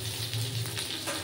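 Eggplant and potatoes sautéing in a pan, giving a steady, close sizzle with soft crackle that keeps going evenly without a break.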